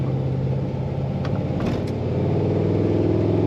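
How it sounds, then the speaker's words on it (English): A customized 1942 Ford Super Deluxe two-door sedan is driven down the road, its engine giving a steady low, even hum from inside that swells slightly as it pulls ahead. "Today we're driving a 1942 Ford two-door."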